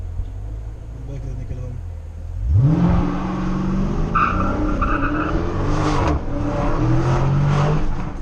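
A 2016 Dodge Challenger Scat Pack V8 does a burnout, its engine revving up loudly with a rising roar and tire noise over a low idle rumble, while people talk and shout nearby.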